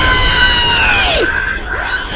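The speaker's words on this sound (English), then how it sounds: "Give her a dose of the screech, will you please?" A loud, sustained high-pitched electronic REEEE screech effect stands in for a cartoon character's screech, holding steady tones that bend downward near the end, with no speech over it.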